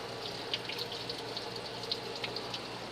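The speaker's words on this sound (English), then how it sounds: "I've been running Ajax dish soap and water through here." Water mixed with dish soap flushing through a part of an old barn-find truck, a steady faint rush of running water with small splashy bursts, no voices.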